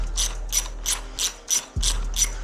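A hand wrench ratchets a bolt out on a KTM 85sx dirt bike, with seven crisp, evenly spaced clicking bursts in a steady rhythm, close and clear with no talking.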